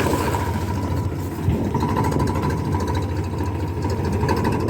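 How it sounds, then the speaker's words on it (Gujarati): A steady, rumbling tractor engine runs continuously at an even idle-like pace, loud and close, with no voices over it. "ટ્રેક્ટર જાય છે નિરાતે અત્યારે"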